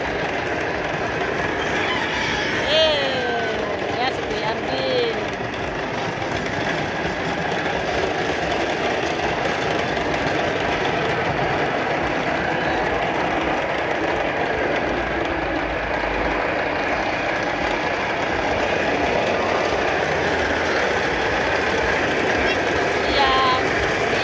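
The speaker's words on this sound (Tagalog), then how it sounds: "I'm on the train." Constant low rumble and rattling hum of a moving train heard from inside a carriage, steady throughout with faint squeals and a little background chatter.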